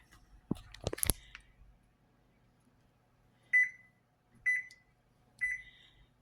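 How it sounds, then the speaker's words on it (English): A kitchen timer is set for oven baking: a few quick button clicks, then three short, clear electronic beeps spaced about a second apart in a quiet room. "Timer."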